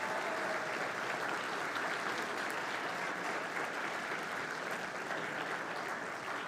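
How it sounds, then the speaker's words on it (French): An audience at a political party's general council claps steadily, a continuous and fairly distant wash of applause with no breaks. "on peut leur donner une bonne main d'applaudissements"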